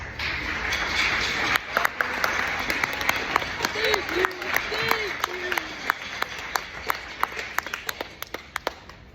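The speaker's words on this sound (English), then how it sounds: "Give yourselves a round of applause." Parents at a school band concert clap in a thinning round of applause, individual sharp claps growing sparser over several seconds while voices chatter and call out underneath.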